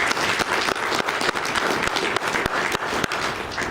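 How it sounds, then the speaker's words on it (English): Audience at a BNI business networking meeting breaks into steady, sustained applause, a dense patter of many hands clapping throughout with no talk over it. "So let's give them a warm round of applause."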